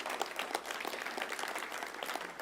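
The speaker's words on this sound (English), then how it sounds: "Yeah, we can clap for that." A church congregation claps after a sermon, a dense steady round of applause from the room at moderate volume with no break.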